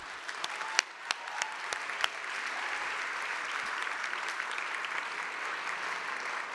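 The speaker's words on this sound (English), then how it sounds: "Everybody, a round of applause for the spectacular jury." An audience at the Hult Prize finals ceremony at the United Nations applauds the jury with a broad, steady round of clapping. A few sharper, nearer claps stand out early on.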